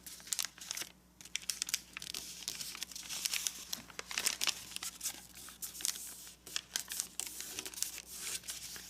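Paper sheet being folded and creased into an origami labyrinth, with close, crisp crinkling and rustling in irregular bursts, quiet and alone.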